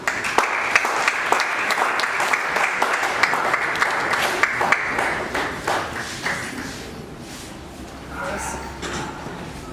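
Audience clapping greets a presenter taking the stage, starting as a dense round of applause with sharp individual claps, then fading out as a voice begins speaking over the thinning crowd noise.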